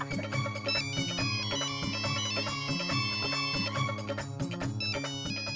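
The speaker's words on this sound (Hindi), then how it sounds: "भैया प्लीज फोन उठा दो ना।" A phone rings with a bright, repeating melodic tone that plays steadily and fairly loud for several seconds, with no voices over it.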